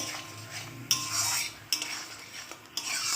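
Spices with salt and turmeric sautéed for a pumpkin dish with mustard and poppy seed, a spoon scraping and clinking steadily against the pan over a low background hiss, close, with no voices.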